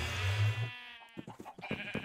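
A llama bleats in Minecraft, one loud drawn-out call at the start that fades out, followed by scattered quieter game sounds and faint voices.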